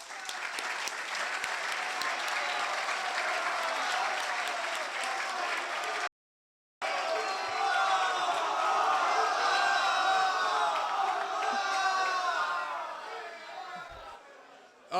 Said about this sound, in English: I'd like you all to give yourselves a hand of applause